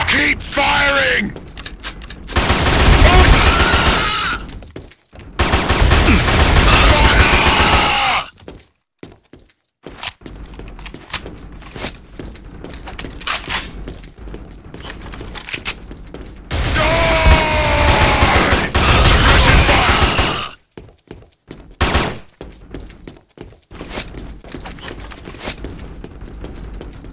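Bursts of rapid gunfire from the PS2 shooter Killzone ring out in loud stretches separated by quieter gaps, with shouted orders and other voices mixed in among the shots.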